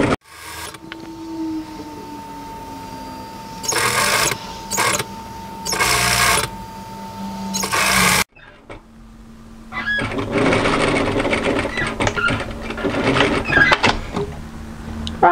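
A sewing machine stitches a 1 cm side seam on a draped jersey tee dress, running in several bursts with short pauses, then a longer steady run after a brief break, close and fairly loud with no talking.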